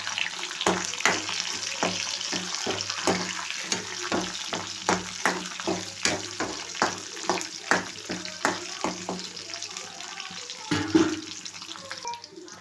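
Curry leaves and garlic cloves sizzling and being stirred in a pan for tomato chutney, a steady frying hiss with rhythmic scraping strokes of the spoon, close up.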